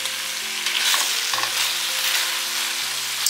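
Sliced onion coated with gochujang chili paste and garlic pickle sizzles and fries steadily in a pan, with stirring scrapes throughout; close, continuous and loud, no talking.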